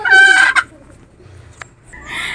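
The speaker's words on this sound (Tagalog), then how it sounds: "ang ingay ng manok." A chicken clucks loudly and closely in a garden where succulents are grown on a shelf, with a burst of noisy calls at the start, a quieter stretch, then more clucking at the end.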